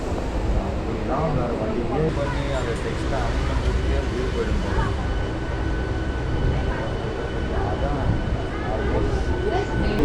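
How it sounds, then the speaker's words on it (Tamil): An electric commuter train runs along the line into Pallavaram railway station, its wheels and carriages producing a dense, steady rumble and rattle heard from inside, with voices talking faintly underneath. "இப்போ ட்ரெயின் நிற்கிறது தான் பார்த்தீங்கன்னா பல்லாவரம் ரயில்வே ஸ்டேஷன்"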